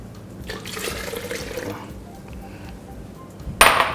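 Lime juice is poured into a green chili seafood dipping sauce, making a soft, steady liquid trickle, followed by a sudden bright clink of a container near the end.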